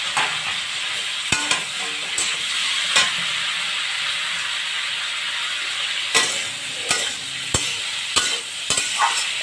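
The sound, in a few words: cauliflower frying in a pan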